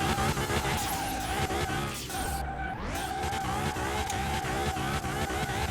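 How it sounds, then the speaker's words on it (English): A virtual Nissan GT-R tuned to 900 horsepower in Car Mechanic Simulator 2021 roars at high revs, the engine tone dipping and wavering as the tires skid through a handbrake turn. The engine runs loud and continuous, with no talking. "Let's do a handbrake turn"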